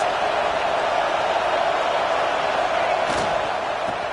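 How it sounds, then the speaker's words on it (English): A stadium crowd at a football game roars continuously and loudly, a dense sustained wall of cheering and shouting from thousands of fans urging on their defense. "Listen to this crowd just shaking the girders of this place, trying to help their defense."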